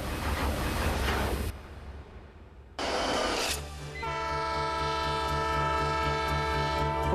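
The old steam train Spirit of Oregon in Oregon's coastal mountains, a loud rushing rumble broken by a short gap, then a sustained multi-tone horn blast sounding over continuous running noise, with one brief spoken word.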